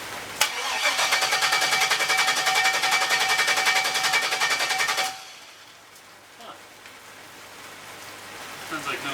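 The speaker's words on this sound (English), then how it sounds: "So we're gonna fire it up and see if it still runs." An LS engine in a turbo Miata kart cranks for about five seconds without catching, a rapid rhythmic starter whir that stops abruptly and leaves near-silence with faint shuffling.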